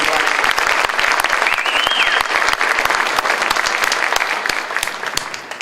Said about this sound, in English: Round of applause for Addison Brown.